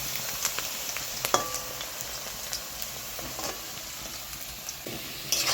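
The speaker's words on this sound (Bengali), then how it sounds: "আলুগুলো লাল লাল করে ভেজে নিব।" Potatoes fry in oil in a pan ahead of a fish curry, giving a continuous dense sizzle and crackle with scattered pops and faint clinks, close and steady without speech.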